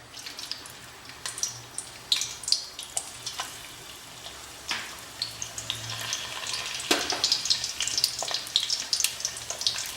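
Almonds frying in ghee in a separate pan, a soft crackling sizzle with scattered pops and clinks of a spoon against the pan, close and steady.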